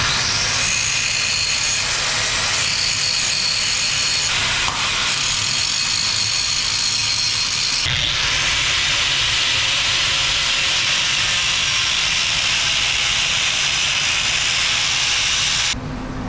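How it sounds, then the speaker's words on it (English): A grinder cuts out a crack on a farm hydraulic cylinder, a loud continuous harsh whine and hiss that holds steady for the whole stretch with a brief dip partway through. "So we're gonna grind that off, clean it up, and re-weld it, put it back together."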